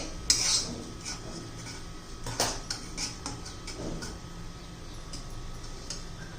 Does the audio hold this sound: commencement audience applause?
no